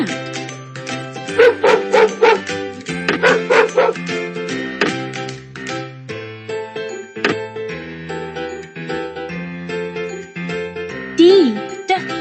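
A cartoon dog gives several bouncy barks and yips over a bright, jingly children's music backing, with one more yelp near the end.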